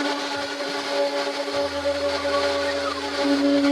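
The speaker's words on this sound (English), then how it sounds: "And then we're just gonna blend it right up until it's super silky smooth." A blender whirs through a raw vegan cashew cheese mixture, a steady loud high-pitched motor whine with a strong sustained tone and a deeper hum entering partway through, no voices.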